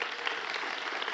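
Audience applause at a Hall of Fame induction ceremony, a steady wash of many hands clapping in a large hall, full and sustained.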